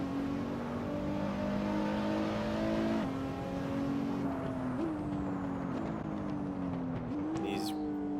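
Sim race car engine in Assetto Corsa, a steady high engine drone that dips as the car brakes hard, then climbs again with shifting pitch as the throttle returns, loud and continuous throughout.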